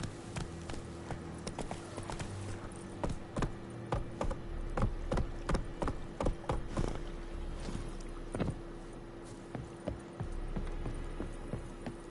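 A horse in The Witcher 3 clip-clopping along in a steady rhythmic gait, hooves thudding clearly and evenly throughout without talk.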